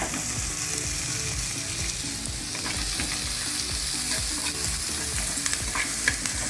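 Onion, carrot and capsicum shallow frying in oil over a high flame: a steady, dense sizzle with repeated stirring scrapes and taps of the utensil, close and continuous, with no talking.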